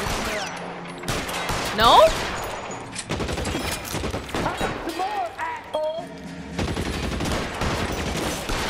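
Gunfire in the crime video game L.A. Noire, a burst of shots under excited talk, with sharp repeated cracks and other game noise throughout.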